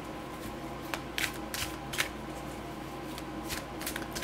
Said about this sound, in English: Yeah, a couple more shuffles.